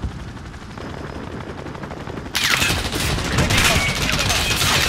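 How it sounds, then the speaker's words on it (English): Dense automatic gunfire from the video game Modern Warfare, continuous bursts of rapid shots that grow louder and fuller midway, with no talking. "Thank you for shooting at me so I can see you"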